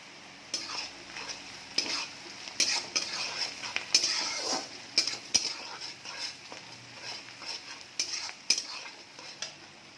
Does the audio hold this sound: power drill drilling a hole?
no